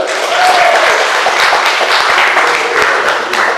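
Loud, close audience clapping at a community support event, a dense steady patter of many hands with sharp individual claps standing out, continuing evenly for several seconds.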